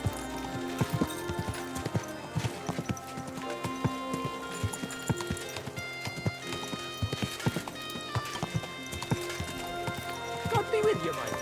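Steady clip-clopping hooves of a horse in the video game Kingdom Come: Deliverance 2 over a music-like game soundtrack, with occasional neighs and talk.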